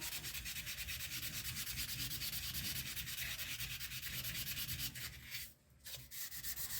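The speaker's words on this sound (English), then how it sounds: "if you're just using the old sanding block" Sanding block rubbing steadily over a wooden firearm stock, a continuous close scratchy abrasion with a brief pause near the end before resuming.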